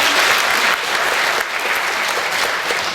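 Dense, steady applause from an opera audience during the introductory address, many hands clapping together at full volume for about three seconds with no voices on top.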